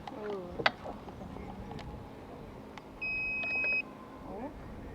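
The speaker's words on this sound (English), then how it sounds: "I have beeping." A boat's electrical system, just powered on from the battery, gives a brief two-tone electronic beep, steady and clear, after some faint mechanical clicks and low background noise.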